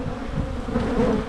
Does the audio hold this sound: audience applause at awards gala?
no